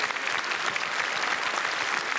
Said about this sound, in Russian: Ксюша, аплодисменты тебе